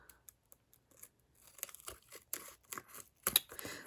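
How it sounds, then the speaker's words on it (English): Beeswax-layered material being cut, a series of faint crisp snips and crinkly tearing sounds, sparse at first and then denser and louder toward the end, heard up close. "I'm going to cut this."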